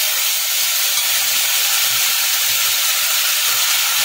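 Dal poured into hot tempered oil in a pot, for a Bengali jute-leaf shukto dal, gives a loud, steady, bright hiss-sizzle up close that runs unbroken throughout without any talking.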